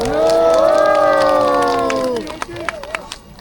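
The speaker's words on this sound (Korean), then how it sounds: "자, 큰 박수 부탁드리겠습니다." At an outdoor impeachment-opposition rally in Changwon City Hall square, a crowd lets out a loud, sustained cheer that fades into a few scattered, separate claps near the end.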